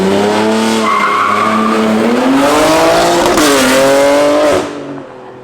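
A Toyota Supra accelerates hard from a launch, the engine note climbing steadily through the revs, loud and close with tire noise, then dropping away abruptly as it pulls off.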